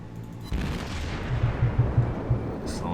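Anti-aircraft guns open up aboard the cruiser Aoba in World of Warships, a sudden loud burst followed by rapid rumbling volleys of booms, close and dense, with no talk over it.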